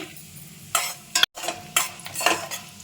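Cashews and almonds roasting in ghee in a pan for bellam kesari, with repeated scraping and stirring strokes of a spoon against the pan over a soft sizzle.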